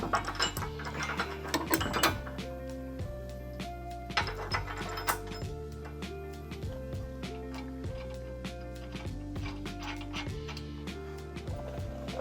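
A ratchet clicks in quick repeated bursts while tightening bolts on an aftermarket bumper being fitted to an M1123 Humvee, close and fairly loud, with metallic taps and clanks between the strokes.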